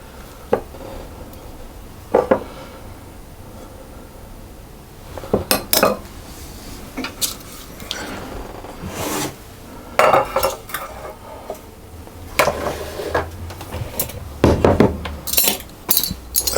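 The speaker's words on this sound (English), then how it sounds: "So then I'm going to spoon that into my muffin cases." Thick blueberry muffin batter is spooned into muffin cases, with scattered clinks and scrapes of a metal spoon against a bowl, some sharp and close, separated by quiet pauses.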